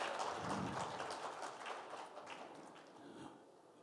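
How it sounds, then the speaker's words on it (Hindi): An audience gives loud, sustained applause to welcome Piyush Mishra at a Panchjanya talk event. The clapping is dense and continuous, strongest at first, then gradually thinning and softening toward the end, with no speech over it. "हम बात का सिलसिला शुरू करें जोरदार तालियों के साथ।"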